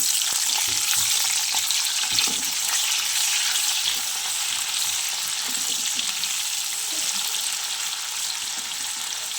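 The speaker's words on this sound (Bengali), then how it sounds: "এবার দিয়ে দিলাম একটা পেঁয়াজ কুচি।" Chopped onion frying in hot oil with dried red chillies, bay leaves, whole garam masala and cumin seeds: a loud, steady hiss and sizzle that holds throughout, close and unbroken, with no voices.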